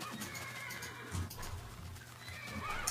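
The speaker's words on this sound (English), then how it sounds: "I will show you how quick this horse is." A tamed, saddled horse in the Minecraft Mo' Creatures mod neighs and whinnies over a steady rumble of game ambience, with faint hoof clip-clops and low thuds as it runs.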